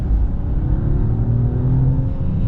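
A 2022 Mercedes S500 accelerates, its engine giving a steady low rumble with rising tones as it pulls, heard from inside the cabin without talk.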